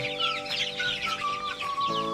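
Two-month-old Thai native chickens clucking and peeping continuously close by, with a steady droning hum underneath and no talking.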